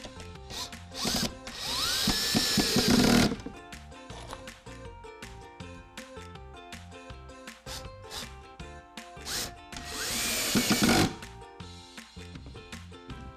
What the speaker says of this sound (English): Take your screwdriver.